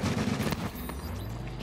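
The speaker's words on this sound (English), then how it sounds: "Turret has been activated at Alpha." Turret fire striking a fortification in a video game's Last Stand mode: a dense, continuous fusillade of rapid shots with heavy low rumble, loud and sustained throughout.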